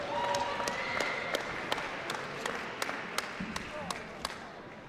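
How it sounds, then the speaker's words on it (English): A high school wrestling event crowd gives a round of applause in a gym, sparse scattered claps fading over a few seconds with murmuring and talk beneath. "Please give another round of applause for Max and his family."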